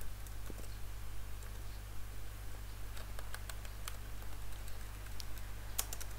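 Rapid keystrokes on a computer keyboard in irregular bursts of clicks, recorded close and fairly quiet over a steady low electrical hum, during a command-line session on an Ubuntu Linux machine.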